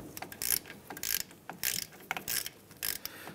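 Ratchet snugging up brake caliper bolts on a 2007-2015 Mazda CX-9 front brake job: repeated short bursts of clicking pawl strokes, close and fairly loud, with brief pauses between swings.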